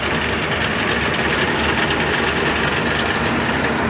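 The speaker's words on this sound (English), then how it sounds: "First off, it's got the sleeve valve motor in her. I'm surprised you're hearing the rattling." A classic car at an AACA fall national show, fitted with a sleeve valve engine, runs nearby with a steady, dense rattling idle that holds at an even, fairly loud level without pause.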